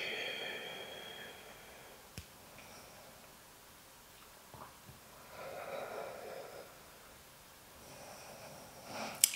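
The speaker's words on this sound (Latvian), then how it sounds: "Elpojam." Slow, deep breathing during a morning full-body yoga session: soft, faint breaths rising and falling in a quiet room, with a few small clicks and no talk.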